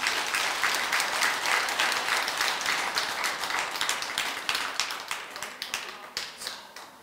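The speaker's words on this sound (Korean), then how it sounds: "잘했다고 박수 친다 생각을 하고," Listeners at a dharma talk in a Buddhist temple break into lively applause that starts thick and steady, then thins into scattered separate claps as it fades.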